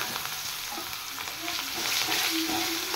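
Chopped onions frying in oil with whole dried red chillies and cumin seeds, a soft continuous sizzle with scraping stirs that grows slightly louder partway through, no voices.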